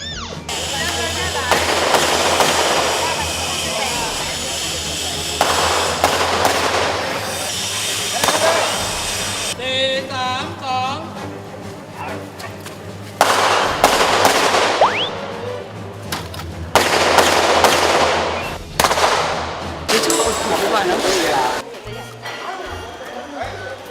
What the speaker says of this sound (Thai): เมื่อถึงฉากที่ต้องมีการยิงปืนเสียงดัง